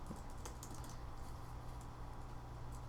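A short command typed on a computer keyboard, a steady patter of quick, light key clicks running continuously at close range over a soft background hum.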